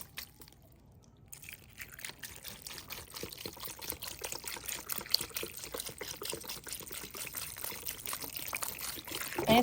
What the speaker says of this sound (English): And now I'm going to pour some chicken broth in there.